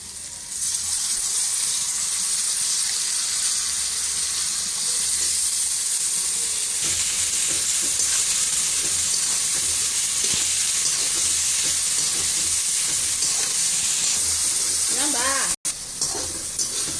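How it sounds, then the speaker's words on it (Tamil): Sliced onions sizzle steadily in hot oil with ginger-garlic paste for a Pondicherry-style chicken curry, a dense and even frying hiss that runs unbroken throughout, with faint stirring near the end. "வெங்காயம் வதங்கிட்டு இப்போ இஞ்சி பூண்டு பேஸ்ட்"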